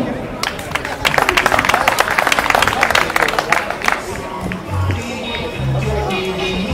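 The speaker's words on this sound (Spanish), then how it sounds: "Un aplauso para Miguel, ¿no?" Brief clapping and cheering from a small crowd after the Corsarios de Llanes 2019 race, a loud burst that fades within a few seconds as people start talking nearby.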